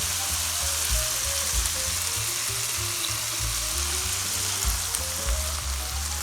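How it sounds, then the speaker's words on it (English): Beaten eggs sizzle and fry together with ham in a pan, a steady dense crackle with soft low bumps of the pan, continuous and close with no talking. "now I'm going to add the eggs and cook"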